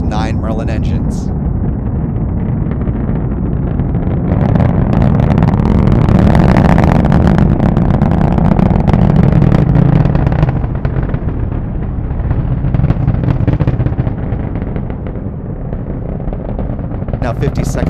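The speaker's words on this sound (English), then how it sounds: "Let's listen to the roar of those 9 Merlin engines." A SpaceX Falcon 9 rocket climbs over Cape Canaveral on its nine Merlin engines, a loud, crackling, rumbling roar that swells and holds for many seconds before easing slightly.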